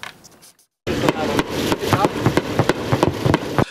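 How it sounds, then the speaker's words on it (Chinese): Continuous fire from an AC-130J gunship strikes a boat-shaped target at sea, heard as a rapid, uneven string of sharp bangs and cracks after a brief near-silence. "连续枪炮声，海面不断溅出水花"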